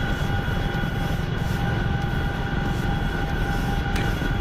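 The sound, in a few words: Chinook helicopter stuttering in the video game Scum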